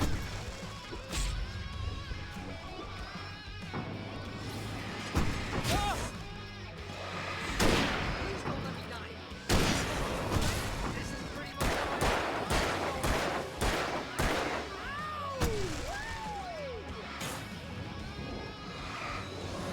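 Gunfire from the video game Alan Wake: repeated sharp shots and crashing impacts in bursts across the clip, loud and close, mixed with game effects and voices.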